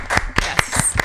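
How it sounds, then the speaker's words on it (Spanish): Scattered audience clapping on a Spanish-language talk show, a few distinct loud claps in a slow uneven rhythm, close and sharp with no talk over them. "Otro aplauso, por favor."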